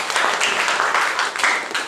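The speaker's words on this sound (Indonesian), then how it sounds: "Tepuk tangan untuk kita semuanya." A classroom group claps together during a lesson, a dense, steady patter of hands lasting about two seconds at moderate loudness, with no clear voices over it.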